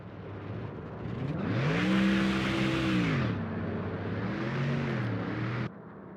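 Race cars at Bristol in the video game NASCAR Thunder 04, a steady engine drone with rising and falling pitch as the cars run, loud and continuous before cutting down near the end.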